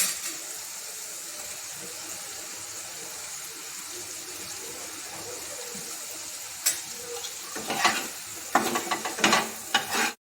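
Black pomfret fish goes into a hot oil and spice paste. A steady soft hiss gives way to louder sputtering bursts and spatula scrapes in the last few seconds, close and without talk.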